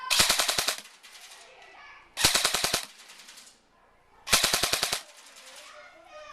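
An airsoft gun powered by an 8.4 volt battery fires three short full-auto bursts, each a rapid rattle of close, sharp shots separated by pauses with faint background noise.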